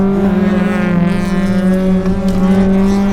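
A high-revving Honda H-series engine in a Honda Accord Euro R screams loudly and steadily, its pitch holding near the top of the rev range before wavering slightly.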